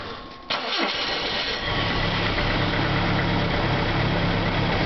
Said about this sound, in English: I'm gonna try to start the car